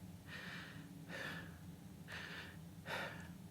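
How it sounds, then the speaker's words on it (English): Four soft, breathy rushes of human breathing spaced about a second apart, quiet and close, over a low steady background hum. "even if I do some minor breathing"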